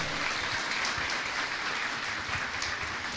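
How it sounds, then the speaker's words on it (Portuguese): A congregation at a Portuguese-language church sermon breaks into loud, dense applause, a continuous close roar of clapping with no pauses over a few seconds. "Aplauda Jesus Cristo."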